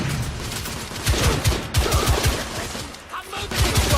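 Dense rapid gunfire from an in-game firefight in The Order: 1886, loud and continuous bursts over a steady roar of battle for about four seconds.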